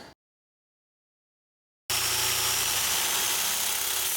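A power drill bores into a PowerPC iMac G3, starting abruptly after a brief silence and then running as a loud, steady high-pitched whine until the end.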